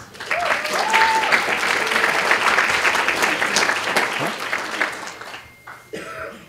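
A hackathon demo-day crowd breaks into a loud round of applause that fades out near the end, with a cough or two rising out of the clapping and a brief voice at the close.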